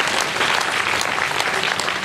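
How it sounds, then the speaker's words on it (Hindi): Loud, dense applause from a large audience at a Hindi poetry gathering, continuous clapping filling the space. "जरा जोरदार तालियां"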